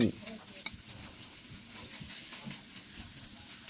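Minced pork and holy basil stir-fried over high heat in a Thai home kitchen, a steady soft sizzle with scraping stirring strokes throughout, fairly quiet and close.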